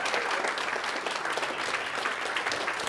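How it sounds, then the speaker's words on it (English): A seated audience at a spiritual talk stands and applauds, a dense, steady wash of many hands clapping close and loud throughout. "So I want you to please stand up and applaud yourselves."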